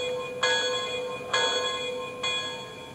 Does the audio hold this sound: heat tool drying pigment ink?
no